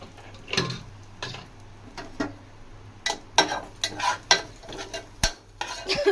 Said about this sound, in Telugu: ఈ కరివేపాకు యాడ్ చేసుకొని ఇందాక నేను పౌడర్ కొట్టుకొని పెట్టుకున్న మిరియాలు, ధనియాలు, వెల్లుల్లి ఇది కూడా యాడ్ చేసుకొని